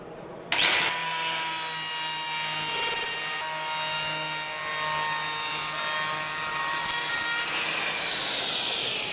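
Kaindl Woodcarver Gold 115 mm carving blade on an angle grinder starts abruptly and cuts into wood with a loud, steady high-pitched whine and rasping grind, sustained and close for the whole stretch with no talk.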